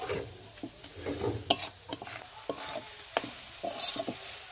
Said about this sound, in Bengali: দিয়ে এটা খুব ভালো করে মিশিয়ে নেব